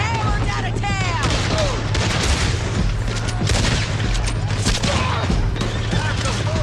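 Gunfire in a Red Dead Redemption 2 town shootout: a dense, continuous fusillade of shots and booming impacts layered with game music and effects, loud throughout with shouted voices mixed in.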